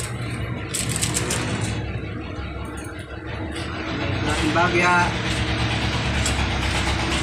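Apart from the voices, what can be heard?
jeep engine idling at terminal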